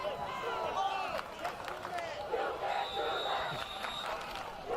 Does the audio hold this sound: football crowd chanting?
yes